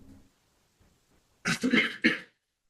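Sharp throat-clearing coughs in a quick burst of two or three, close and loud after a near-silent stretch with faint murmurs, in a comedic courtroom-style bit.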